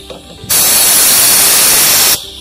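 An aerosol can sprays onto the footstep of a Polytron Fox R electric motorcycle in a single loud, steady hiss lasting under two seconds, then stops abruptly.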